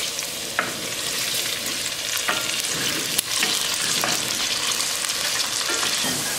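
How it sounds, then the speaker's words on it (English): Potatoes shallow frying in hot oil for a potato and fenugreek dish, with a steady dense sizzle throughout and a few soft clicks of a utensil stirring. Close and even, with no voices. "We're going to shallow fry the potatoes."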